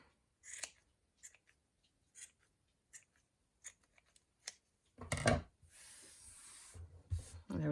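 Scissors snip around a yarn pom-pom, a series of short, crisp cuts at irregular intervals, then a louder rustling, brushing burst of handling near the end, close and fairly quiet with no speech.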